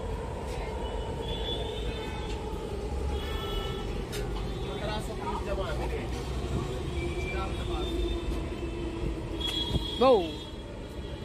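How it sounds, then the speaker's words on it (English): A metro train rumbles past on a city line in India amid street noise, a continuous rolling roar with faint wheel squeal and a short horn-like burst near the end. "It's a metro line."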